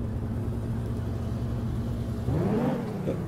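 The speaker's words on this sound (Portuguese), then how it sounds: "Liga o carro." A car engine in the driving game Taxi Simulator turns over and revs up near the end, a short rising whir over steady low rumble, with no talk.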